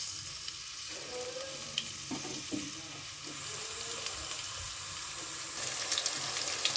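Onions fry in a pan with a continuous soft sizzle and a few clicks and scrapes of stirring, fairly quiet and close, with the frying growing a little brighter and busier near the end.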